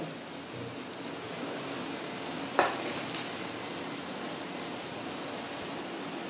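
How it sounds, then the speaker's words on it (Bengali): Vegetable momos fry in hot oil in a kadai with a dense, continuous close-up crackle and one brief louder spatter partway through. "এবার আমি তেলটাও গরম হয়ে গেছে কড়ার মধ্যে। এবার আমি একটা একটা করে এগুলোকে ভেজে নেব।"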